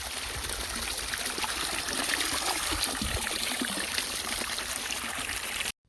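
Water pours steadily from a solar-powered farm well, a continuous close splashing rush that runs unbroken and then stops abruptly at the end.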